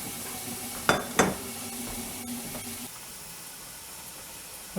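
Clams cooking under a lid in a pan for linguine alle vongole, a soft steady sizzle with two sharp clinks near the start and a quieter hiss later on.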